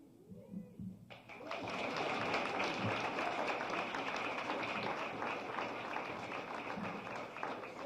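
A live audience claps steadily through most of the stretch, a dense, sustained patter of hands with snapping mixed in, beginning abruptly after a brief quiet moment and holding at an even, fairly loud level to the end.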